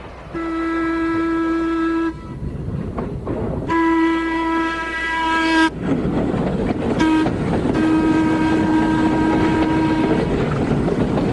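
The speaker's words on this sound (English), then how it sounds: "That's the diesel whistle." A loud diesel train horn sounds in several long blasts separated by short gaps, over rumbling railway noise.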